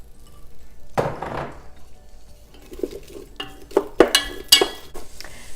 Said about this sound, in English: heat about a tablespoon of olive oil. Okay, and then just get your onions going first